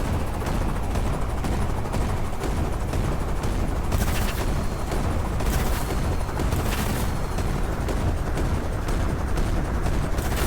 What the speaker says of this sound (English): that's activation of cruise missiles from the carrier. You can see the missiles going up